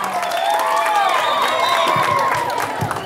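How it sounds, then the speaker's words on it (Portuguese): Audience clapping along at a school poetry recital by students, loud and close, with crowd voices and tonal sounds layered over the claps. "Pegue as palmas, gente, pegue as palmas."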